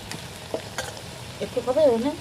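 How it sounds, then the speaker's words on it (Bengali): Potatoes go into a hot frying pan, giving a sizzle with scraping stirring noises and a brief voice murmur, moderately close. "তো এখন আলু দিয়ে দিচ্ছি।"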